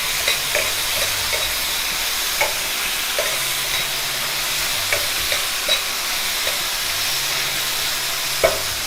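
Anchovy paste, about a tablespoon, sizzles steadily in a pan for fettuccine, with intermittent scraping and stirring clicks over a constant frying hiss, close and fairly loud.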